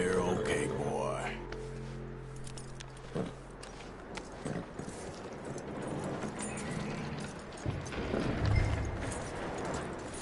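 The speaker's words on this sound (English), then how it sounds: "That looks like a decent horse." Horse hooves clip-clop steadily in Red Dead Redemption 2, a fairly quiet walking rhythm over low background rumble and a few mechanical clicks.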